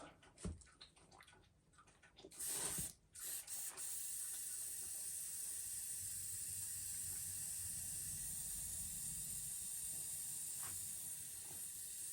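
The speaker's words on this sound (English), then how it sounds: "I'm going to spray just a little bit of water" A paint spray gun blasts hot water to flush out gold paint after painting a fishing lure, a continuous close hiss lasting around nine seconds after a few brief clicks and bursts.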